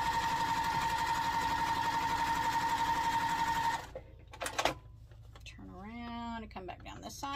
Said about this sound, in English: you're just going to sew down both sides, 1/4 inch